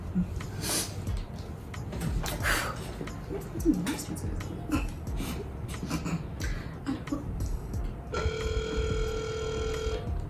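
A telephone rings with an electronic tone near the end, after a stretch of muffled voices and rustling background noise.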